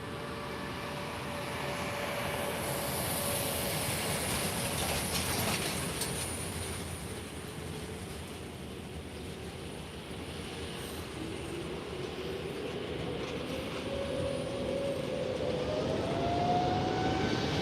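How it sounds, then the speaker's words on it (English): A TAP Air Portugal Airbus A321 airliner takes off at Lisbon airport with a distant, broad, sustained engine roar that swells and fades, a rising whine emerging near the end. "next flight taking off. A321."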